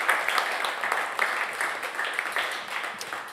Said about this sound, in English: how about one more round of applause for Ted Russell Kamp as well here today?